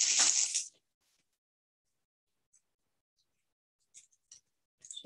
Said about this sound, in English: I'm going to grab just a plastic bag so I can hold it without getting it too messy